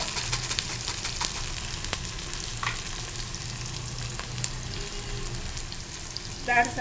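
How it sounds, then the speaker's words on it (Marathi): Onions, crushed garlic and green chili sizzle and fry steadily in a pan with occasional stirring scrapes, a close continuous crackle throughout. "ठेचलेला लसूण चिरून घेतलेली हिरवी मिरची आता आपण छान सगळं परतवून घ्यायचं"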